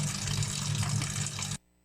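Water pours in a steady, close gushing stream for about a second and a half, then stops abruptly into near silence.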